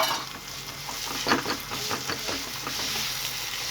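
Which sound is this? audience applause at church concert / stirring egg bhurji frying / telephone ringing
stirring egg bhurji frying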